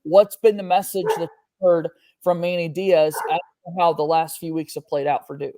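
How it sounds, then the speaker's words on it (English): A dog named Bo barks in the background, a few short yips and barks mixed under a steady stream of close conversational speech. "if you can hear Bo barking in the background"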